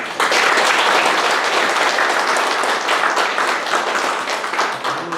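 Sustained applause from an audience at a Sejong city town-hall meeting in Sojeong-myeon, dense and steady clapping filling the room for several seconds without letting up.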